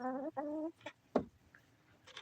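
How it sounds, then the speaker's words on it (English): A chicken that has jumped onto a table clucks close by in a short burst of several calls followed by softer, scattered clucks. "chicken just jumped up on the table here"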